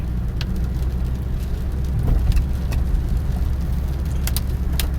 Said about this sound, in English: Clutch in, first gear, add gas, let the clutch out.